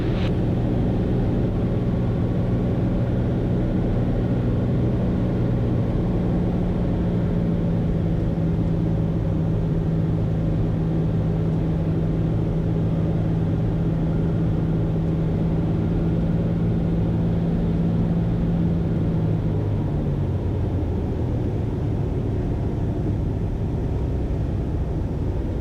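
Inside the cabin of a 1982 Cessna Turbo 210N landing with full flaps and gear down, a loud, steady engine drone runs throughout, its pitch sliding lower near the end as power comes back.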